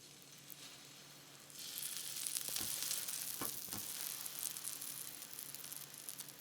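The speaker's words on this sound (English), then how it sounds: "And now let's get that on our griddle." A BLT grilled cheese sandwich with kale is set on a griddle, where the quiet background gives way to a fuller frying sizzle, marked by a few soft scrapes and taps as it settles.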